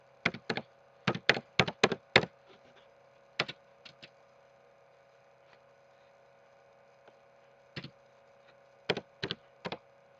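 Keys clack on a computer keyboard in a quiet room over a faint electrical hum: a quick burst of keystrokes, then scattered single taps and a short final flurry.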